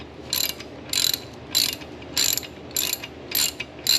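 A ratchet wrench clicks in six evenly spaced bursts of rapid pawl ticks while working on a non-starting engine near a spark plug, close and crisp, with no talk.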